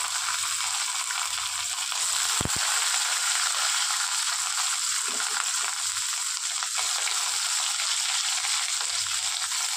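Chopped coconut frying in a wok with tempering spices, giving a steady, close hiss and sizzle throughout, with a brief clatter of stirring and scraping partway through.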